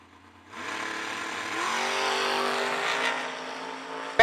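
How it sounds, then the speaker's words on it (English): At a drag strip event, a dragster and a door car launch and the engine roar swells and holds as a sustained, moderately distant howl for a few seconds, with a sharp click at the very end. "Corey Galletti in the dragster, left lane, dials in with a 470."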